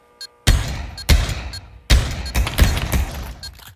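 Desert Eagle pistol gunshots in a video game duel, four or five sharp, loud, close reports spaced irregularly with brief ringing tails, a faint click before the first, no talk.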